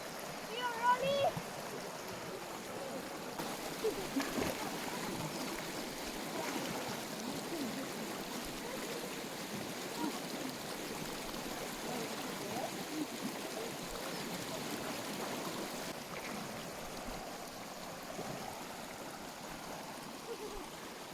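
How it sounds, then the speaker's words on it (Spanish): A countryside river runs as a continuous soft rushing and trickling during a crossing, faint and steady, with distant voices murmuring beneath the water. "Hemos pasado el río."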